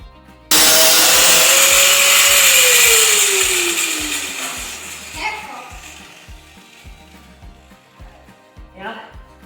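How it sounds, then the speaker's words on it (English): An angle grinder bites into metal being cut for a rabbit nest box, starting abruptly with a loud whine that drops in pitch as it bogs down, then winds down and fades, with faint clatter and brief voices afterward. "So we're gonna cut that off with the grinder"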